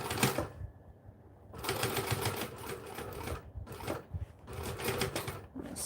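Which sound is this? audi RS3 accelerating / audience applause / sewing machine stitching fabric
sewing machine stitching fabric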